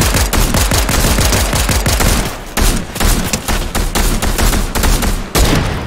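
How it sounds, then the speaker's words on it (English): Rapid bursts of video game gunfire from another player crackle loud and close, dense repeated shots with short pauses between volleys. "there's another guy shooting us"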